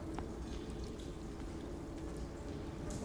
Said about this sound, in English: Water starts making noises.